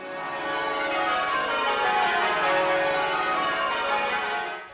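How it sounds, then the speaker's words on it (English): Church bells rung by a team of bell ringers in Perth, Australia, peal in a dense, continuous overlapping wash of loud metallic tones with a steady rhythmic striking underneath and no voices. "make sure you stop by at noon when a group of dedicated bell ringers put on a show for all of Perth to hear."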